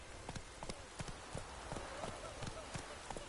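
Geralt's horse Roach trotting in The Witcher 3, hooves clip-clopping in a steady, even rhythm at moderate distance over a low bed of ambient game noise.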